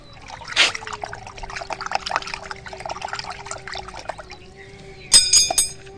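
Liquid organic fertilizer diluted with water is poured, giving a soft continuous trickle and splash with a brief louder splash early on and a burst of clinks and sloshing near the end.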